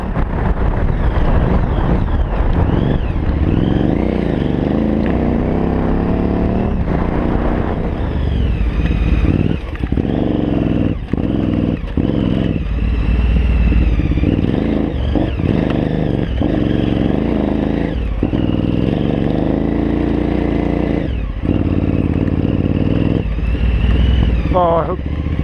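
A KTM rally motorcycle rides off-road through sandy washes during roadbook practice, engine droning loudly and continuously with repeated throttle surges and drops, heavy wind buffeting the helmet-mounted microphone.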